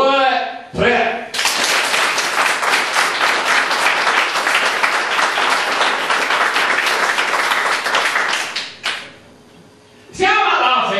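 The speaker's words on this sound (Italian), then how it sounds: "Quindi fategli un applauso al mio tre." A live comedy show audience bursts into loud, dense applause on cue, clapping steadily for several seconds before it cuts off, with a performer's voice briefly heard at the start and end.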